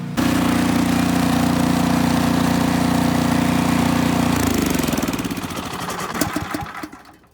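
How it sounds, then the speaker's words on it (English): An Ariens Deluxe 28 snowblower engine runs loud and steady with a strong low hum, then is switched off and winds down over its final seconds with clattering fading into quiet. "I just turned the key to the left to kill the engine"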